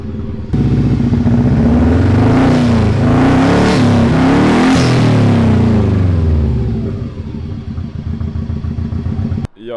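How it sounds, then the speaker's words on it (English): A Subaru GC8 WRX with no exhaust fitted fires up and runs loud and raw, revving hard with rising and falling pitch before settling to a rough, clattering idle. "It's still got no exhaust, but it's running."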